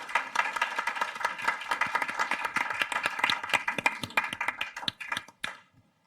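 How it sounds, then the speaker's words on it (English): A small group applauds steadily for several seconds, the clapping close and even before fading out abruptly. "I would like to propose that we end the session with a round of applause"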